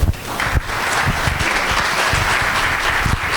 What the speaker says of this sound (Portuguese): eu quero palmas calorosas ao Marcel